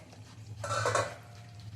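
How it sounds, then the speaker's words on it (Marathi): Rice dough for traditional soft ukad being stirred in a steel wok, a brief burst of scraping and clinking in the middle over a low steady hum, alone and fairly close. "झाकण काढून मधनं हलवायचंय, कारण आपण स्टीलची कढई घेतलेली आहे."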